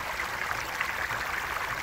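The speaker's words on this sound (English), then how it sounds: "But a lovely little stream." A small stream babbles and trickles softly and continuously, fairly quiet and close, with no voices.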